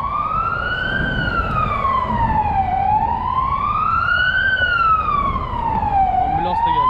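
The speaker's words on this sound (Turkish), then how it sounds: "Ambulans da geldi işte. Polismiş." Police car siren wailing on a street in the Baltics, a loud, close, continuous rising-and-falling wail sweeping slowly up and down twice over traffic noise.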